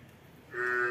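A young first-calf Murrah buffalo lows once on a dairy farm, a steady, fairly loud call starting midway after a quiet background and holding to the end.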